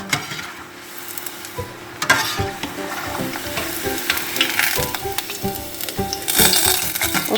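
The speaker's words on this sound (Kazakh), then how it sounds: "Осылай қуырып аламыз." Khoshan dumplings, fried mantı, fry in oil with a close, continuous sizzle and crackle, punctuated by occasional clinks and stirring scrapes, growing slightly louder toward the end.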